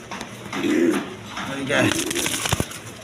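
Indian Kaldom pigeons sitting on eggs inside clay pots coo softly in a couple of low, nearby calls, with a voice and faint rustling around them.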